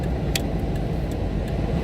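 Car driving, heard from inside the cabin: a steady low road and engine rumble with faint periodic ticking, no talking.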